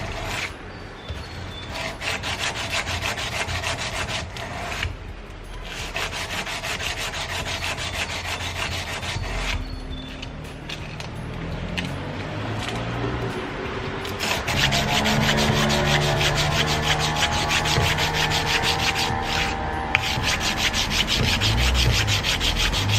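A Damascus steel knife blade is sanded with 120 grit to clean up its grind lines, giving a continuous close, loud rasping scrub with rhythmic back-and-forth strokes throughout and no talking.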